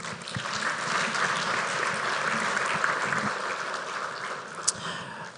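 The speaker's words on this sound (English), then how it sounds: "A round of applause." An audience at a central bank monetary policy statement event claps steadily in a dense, even round of applause, with one sharp knock near the end.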